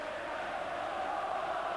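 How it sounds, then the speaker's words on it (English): Rangers supporters roar in a packed stadium at a night European match against Sparta Prague, a dense, steady wall of crowd noise that holds level throughout. "You can hear the vocal support right now for Rangers."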